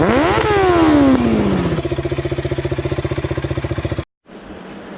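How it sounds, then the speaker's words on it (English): A 2019 KTM Duke 390 motorcycle engine revving up sharply, then settling into a fast, even idle thrum close by, before cutting out abruptly to a quieter background. "तो पहली बार we'll be taking the KTM"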